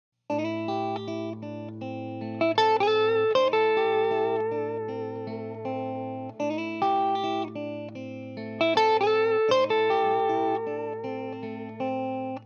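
An electric blues guitar lick plays over a sustained bass and keyboard backing, with bright plucked notes and bends arriving in two clustered phrases, clean and close with light reverb.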